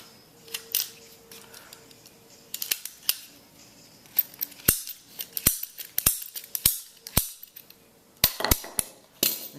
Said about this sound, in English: So I'm going to go ahead and get my PVC cutters and cut this line.